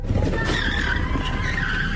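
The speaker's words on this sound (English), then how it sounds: "They got right in their own cars and ran after the Chevy, running it down and ramming it hard enough to force a stop" Tires squeal in a long skid as a car rams a fleeing Chevy Equinox to force it to a stop, a loud, close screech running the whole time over a rumbling low engine and road roar.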